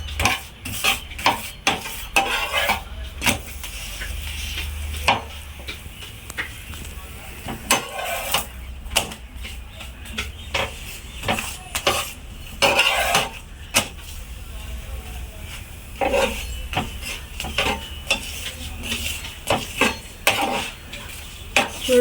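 Food cooks in oil in a pan for a meal maker aloo kurma, with a low frying sizzle under a steady run of spoon scrapes and metallic clinks against the pan, close and continuous throughout.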